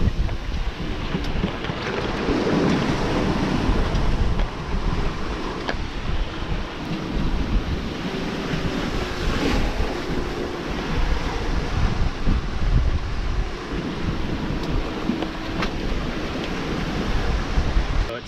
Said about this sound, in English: Now I feel like the wind might be dropping somewhat, but the waves are still increasing